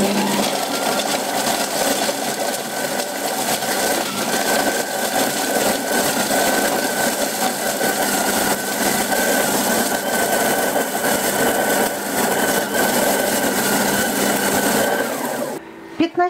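Thermomix running at speed 5 grinding bread into breadcrumbs, a loud, steady high-pitched whirring drone that holds for about fifteen seconds before cutting out abruptly.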